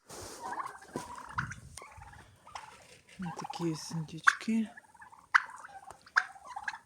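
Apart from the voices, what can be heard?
turkeys gobbling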